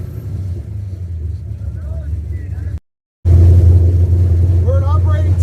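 An old car parked since 1999 idling with a sticking throttle, a loud close low rumbling engine that cuts out briefly and then returns stronger, with faint squeaky chirps over the drone.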